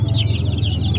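Broiler chickens on a chicken farm, several hens clucking in quick overlapping calls over a low steady hum, close and fairly loud for about a second.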